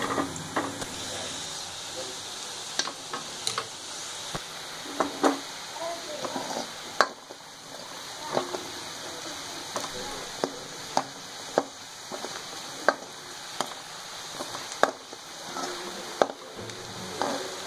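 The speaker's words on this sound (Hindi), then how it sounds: "अगर प्याज को लगातार चलाते रहें तो ये जलते नहीं हैं और सब एक साथ सुनहरे होते हुए आ जाते हैं।" Onions fry in a pan for pav bhaji while being stirred continuously, giving a steady sizzle broken by frequent scraping taps of the spoon, with someone talking over it.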